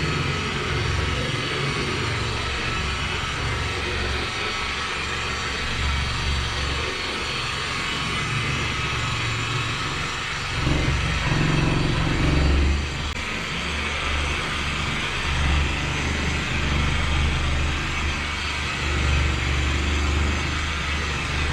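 A polishing machine running against a car hood with a peeling clear coat, a loud continuous motor drone that holds steady for the whole stretch, with slight load changes as the pad presses and shifts.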